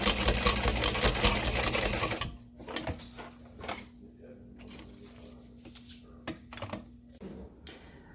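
A sewing machine top stitches bonded nylon for a backpack, a loud steady mechanical whir for about two seconds that then stops, leaving quieter handling sounds and a faint hum.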